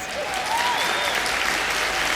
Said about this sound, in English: Let's give a round of applause for our finalists and for our judges